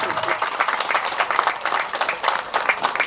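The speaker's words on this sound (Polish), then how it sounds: "Powitajmy gromkimi brawa przedstawicieli sołectwa Kosztowo." A crowd at a village harvest festival applauds the arriving representatives of a rural district, loud, close, continuous clapping with a few voices underneath.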